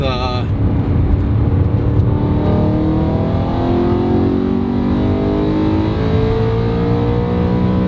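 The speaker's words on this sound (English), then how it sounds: "High revving, V8, sounds amazing" The V8 engine of a BMW E92 M3 revs high and loud, holding a sustained roar with rising and falling pitch sweeps throughout.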